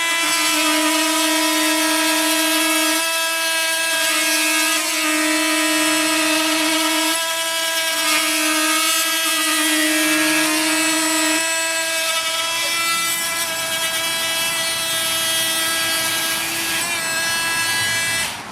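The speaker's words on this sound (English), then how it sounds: "Whether it's cutting or not cutting, it sounds pretty much the same, whereas the Makita, very quiet when it's not actually doing the cutting." An oscillating multi-tool with a Starlock adapter cuts timber with a loud, close, continuous high-pitched buzz and strong harmonic whine that shifts pitch every few seconds as the blade loads and unloads.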